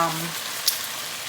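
Vegetables and tomato sauce sautéing in a pan for vegetable lasagna, a steady soft sizzle with one brief brighter pop midway, close and continuous with no talk.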